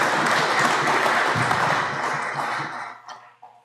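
An audience claps for a speaker just introduced at a farmers' meeting on harmful algal blooms, a dense round of applause that holds steady and then thins out and fades over the last second.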